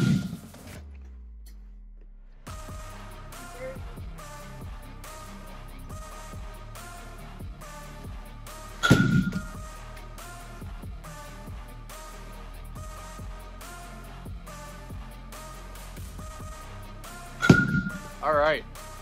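A baseball bat wrapped in a VukGripz grip drives a ball off a tee twice, about eight seconds apart, each a crisp, loud crack heard under ongoing conversation.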